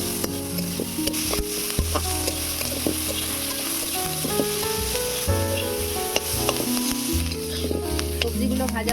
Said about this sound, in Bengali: সবজিগুলো ভাজা হয়ে গিয়েছে, এবারে তুলে নেব।